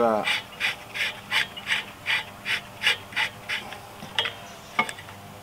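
A clutch centering tool is screwed in on a Peugeot 207, giving a series of about a dozen evenly spaced ratcheting clicks, close and clear, followed by a couple of sharper isolated metallic ticks.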